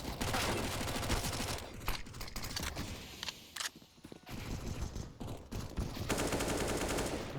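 USP pistol and other gunfire in a Counter-Strike esports match, with dense rapid shots and bursts filling most of the stretch, a short lull in the middle, then more loud firing.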